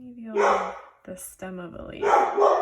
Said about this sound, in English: Don't know if you can hear the dog barking.